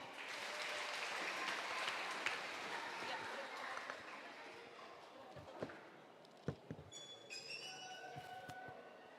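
Applause from a congregation at a church Christmas celebration fills a large hall as a broad, sustained clatter of clapping that gradually thins out, followed by a few scattered knocks and light shuffling.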